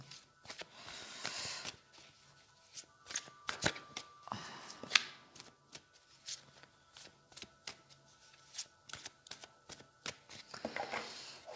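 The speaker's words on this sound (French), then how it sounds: "Je vais mélanger les cartes." Tarot cards are shuffled by hand in quick riffling bursts and soft taps, close and fairly quiet, repeating irregularly with no talk.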